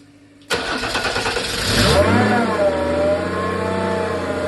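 A Mercedes OM606 diesel driving a PN40 irrigation motor pump cranks over after its glow plugs are heated, catches abruptly, revs up loudly, then settles into a steady, close, rumbling idle.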